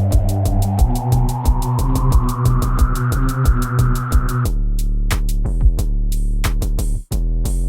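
Heavy electronic drums pound through a dense drop, with thick kicks and bright hits in a steady rhythm over a rising synth tone, then thinning to sparser, punchier drum hits.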